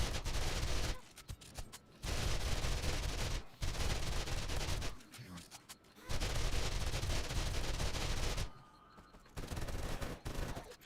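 Sustained gunfire against a zombie horde in 7 Days To Die, loud long bursts of rapid shots separated by short gaps, repeating over about eleven seconds.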